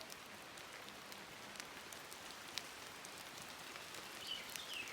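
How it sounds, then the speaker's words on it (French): Light, fine rain falls at a large pond, a faint, even patter of small drops with occasional sharper ticks, quiet and steady with no talk. "grand étang sous une petite pluie fine"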